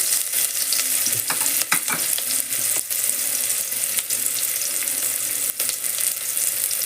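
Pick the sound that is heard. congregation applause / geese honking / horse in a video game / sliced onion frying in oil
sliced onion frying in oil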